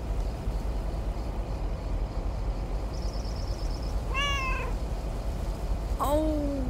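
A cat meows twice in the video game Lake over a steady outdoor ambience, with faint chirps earlier and each meow rising and then falling in pitch.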